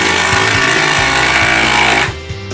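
An impact driver, one of a Craftsman, Ryobi or Kobalt model, runs loud and close with a dense buzzing whine and a rapid hammering rattle pulsing steadily underneath, then stops abruptly near the end.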